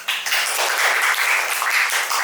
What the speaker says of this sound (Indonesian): Jadi tepuk tangan untuk Puput.